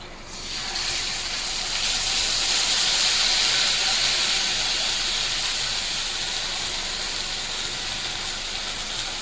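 Fish frying in a pan, a steady broadband hiss and sizzle that builds within the first second and then holds at an even, fairly loud level throughout, with no talking.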